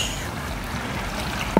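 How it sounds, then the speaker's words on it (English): A toy squirrel is put into water during a gem-dig kit activity, giving a short pair of faint splashes near the end over a steady watery background. "We put the squirrel in the water."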